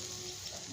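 Intestine gravy sizzles steadily in a pan while it is stirred, a close, continuous frying hiss with no talking.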